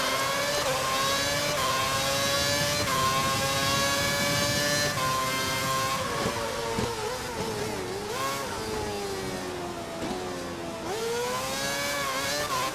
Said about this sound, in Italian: rombo di motori